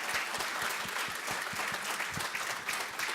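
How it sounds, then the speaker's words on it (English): Audience applause for a foreign policy panel at a veterans' event fills the room, dense steady clapping from a sizable crowd with no voices over it. "Could you please give them a round of applause?"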